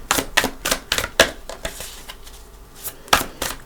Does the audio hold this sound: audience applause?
no